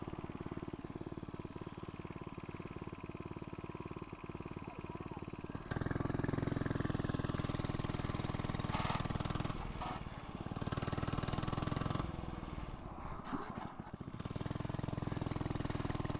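An FRP GMB100 mini bike engine drones loudly and steadily, its pitch and loudness surging and dipping as the bike makes repeated passes close by.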